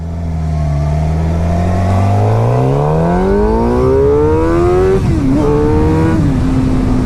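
A black 2016 Suzuki GSX-R 750 sport motorcycle engine revs loudly and close, its pitch rising steadily through the range before a gear shift drops the note and it climbs again.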